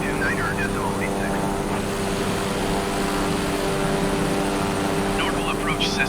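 Cabin engine noise from a Cessna light airplane climbing in flight, a steady loud propeller drone heard from inside with faint radio chatter over it.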